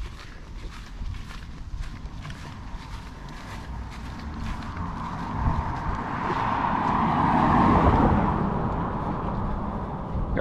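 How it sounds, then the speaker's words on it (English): A car or two rolls past on a quiet Sunday road in West Bay, Grand Cayman, the engine and tyre noise swelling steadily to a peak near the end before easing off slightly, set against hot, still outdoor ambience. "Got some cars in the road"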